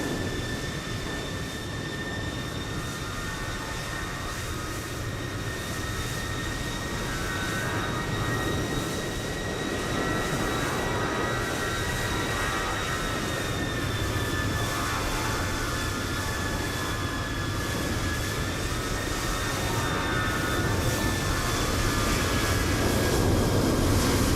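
An airliner's jet engines spool up in Microsoft Flight Simulator, a loud continuous roar with steady high whining tones that gradually rise and swell over the whole stretch, no talk.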